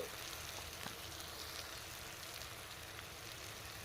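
Grated ginger and Kashmiri chili powder fry in hot oil for a potato dum dish, giving a soft, steady, even sizzle that stays fairly quiet and unbroken throughout, with no talk over it.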